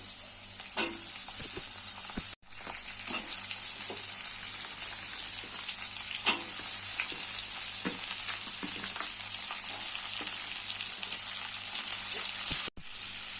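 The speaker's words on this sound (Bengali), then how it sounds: "এরপর আমি আলুগুলো দিয়ে দেবো আলু পেঁয়াজ কালি দুটোই একসাথে দিয়ে দেবো" Potatoes and spring onions fry in oil tempered with kalonji and green chilli, a loud, continuous sizzle with scattered crackles and pops, no voices.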